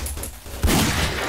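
Rapid machine gun fire in a fort-defense video game, a dense continuous burst that kicks in partway through and stays loud to the end.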